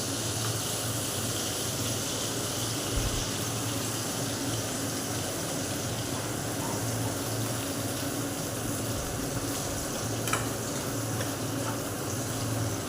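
Masala frying in a pan while making niramish alur dom, a steady close sizzle with watery bubbling running unbroken throughout, no voices.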